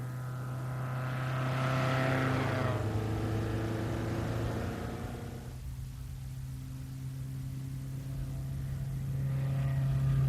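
A 1962 Lotus Elite sports car with a 1216 Coventry Climax engine drives past: its engine note rises as it approaches, holds a steady drone, then fades and returns again, moderately loud and alone without talk.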